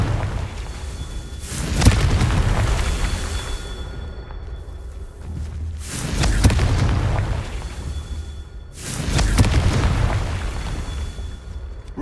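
Confringo fire spells exploding in Hogwarts Legacy during Percival Rackham's Merlin trial: three heavy booming blasts spaced about four seconds apart, each with a rumbling decay.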